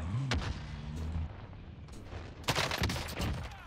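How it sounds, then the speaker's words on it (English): Gunfire in a solo shootout in an online battle video game, with a few sharp shots early on and then a louder burst of several rapid shots near the end over a steady game background. "Just enough shots to put him down."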